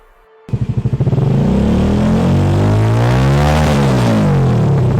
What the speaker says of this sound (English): Listen to the engine sound.